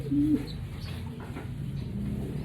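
A Japanese stock pigeon gives a short, low coo up close, then quieter soft cooing and rustling follows under a faint background hum.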